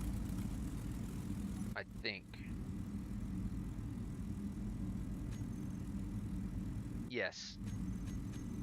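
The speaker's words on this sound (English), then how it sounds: "1 starts the engines" Ship engines in Space Engineers give a steady low droning hum throughout, with a couple of brief spoken words over it.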